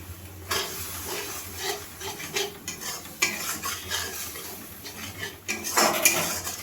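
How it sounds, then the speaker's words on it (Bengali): Masala paste being stirred and fried in a pan, with a little water added, for a Bengali pabda fish curry: repeated scraping and clattering strokes of a utensil against the pan over a low sizzle, with no voices. "এবার আমি মশলাটাকে ভালোভাবে কষিয়ে নেব"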